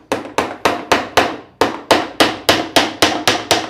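A claw hammer drives a nail halfway into wood in a fast, even series of about thirteen sharp, loud, close blows with a brief pause partway through, and no voices are heard.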